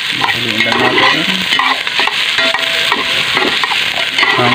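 Garlic fries loudly in a pan for chicken curry outdoors, a spatula scraping and stirring in uneven strokes over a constant close sizzle.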